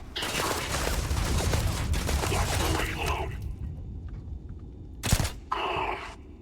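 Rapid bursts of gunfire in a video game, dense and loud at first, then a sharp single shot and a shorter burst later.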